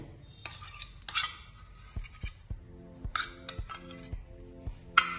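Metal spoon stirring a Gujarati green turmeric curry mixed with yogurt and gram flour in a pot, with scattered clinks and scrapes against the vessel at an irregular pace, close and moderately loud, and no talking.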